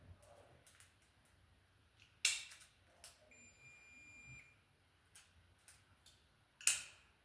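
A tone tracer on household light-switch wiring gives short electronic beeps and a steady high tone in a quiet room, broken by a few sharp clicks and taps.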